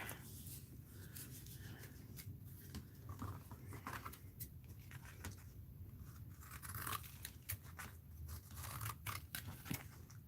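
Scissors snip through sticky tape, making a run of quiet, irregular crisp cuts and crunchy clicks, close by, over a low steady background hum with no talking.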